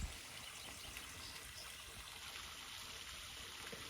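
Spring water in the Smokies flows and trickles with a soft, steady babble of small splashes, faint and continuous with no voices over it.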